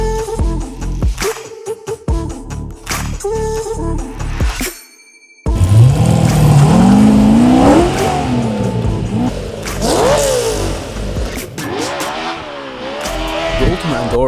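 Superlight SLC kit car engine revving, loud rising engine notes with sharp revs and gear changes, up close and joined by a second engine passage after a brief gap, with a voice speaking over part of it.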